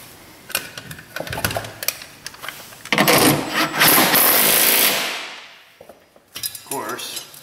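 Impact wrench running nuts back on during a power window motor replacement on a Buick LeSabre: a sustained loud whirring rattle of about two seconds, with shorter clanks and tool bursts before and after.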